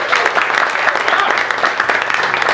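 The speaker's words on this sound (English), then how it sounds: "let's get a round of applause" Dense audience applause from a comedy show crowd, steady and continuous throughout at close range, with no speech over it.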